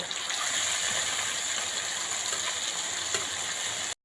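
A ground spice paste of cumin, coriander, onion, garlic and ginger fries in a pan, giving a steady, close sizzle that holds at even loudness without voices before cutting off abruptly.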